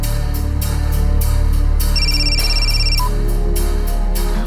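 A telephone ringing loudly and close, a repeating electronic ringtone with pulsing bursts and a brief higher-pitched tone layered over a steady hum, with no talking.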